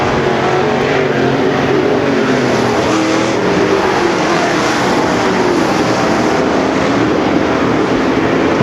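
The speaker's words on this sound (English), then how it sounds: "Second place car just exiting turn number 2." Race cars roar around a raceway oval at a racing event, a loud, continuous engine drone that rises and falls slightly as cars pass, with no voices heard.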